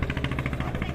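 Engine of a pompong, a wooden motorboat, chugging loudly and steadily at close range with a fast, even rhythmic pulse throughout.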